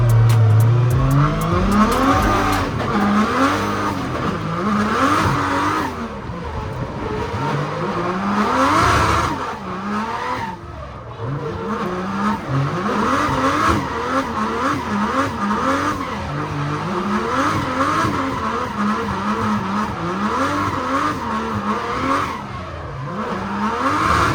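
Race cars roar around a dirt track at a gambler-style event, engines loud and close with continuous revving and sliding tire noise, pitch rising and falling as cars accelerate through turns for the whole stretch.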